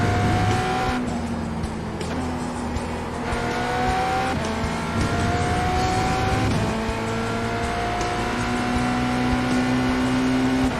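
Race car engine in iRacing, an IMSA GTE car at the Red Bull Ring, roaring loudly and steadily with repeated rising pitch sweeps through the gears, tire noise underneath, no talk.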